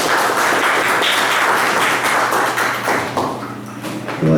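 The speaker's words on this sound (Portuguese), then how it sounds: "Vamos aplaudir a palavra do Senhor?" A church congregation claps together in loud, dense applause that fades slightly toward the end.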